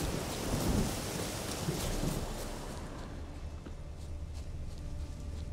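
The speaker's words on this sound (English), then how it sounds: "A storm, damn it." Heavy rain pours steadily in a thunderstorm in the video game The Witcher 3, with low rolling thunder rumbling through the first seconds before the downpour alone continues.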